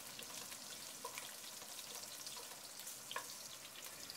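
Onions, chilies and bay leaves fry in olive oil in a pot with a soft, steady sizzle and a few faint clicks of stirring, quiet and without speech.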